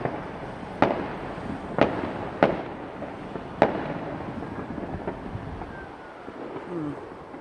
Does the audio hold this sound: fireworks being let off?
yes